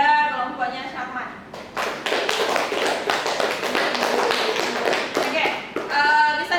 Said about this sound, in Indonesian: kita berikan aplaus kepada kelompoknya Syarman